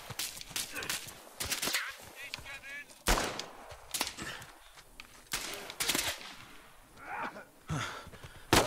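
Gunfire from the video game Uncharted 4, several sharp bursts and single shots at irregular intervals amid game noise and brief gasps.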